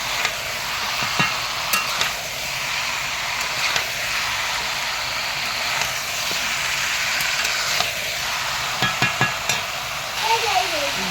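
Spices fried in oil with dried red chillies over a wood fire, crackling and sizzling steadily at close range with occasional sharp clicks and a brief voice in the background.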